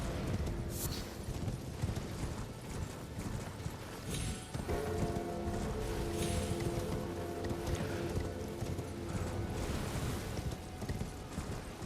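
Horse hooves clip-clopping at a gallop in a Macbeth video game, rapid and steady under distant in-game ambience, fairly faint and mixed, with no talking.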